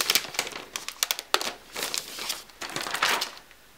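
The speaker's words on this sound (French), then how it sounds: "On va retirer le blister de l'appareil." Crinkly plastic blister wrap is peeled and pulled off a new 13-inch Retina laptop, a close series of crackling, tearing rustles in irregular bursts with no talking.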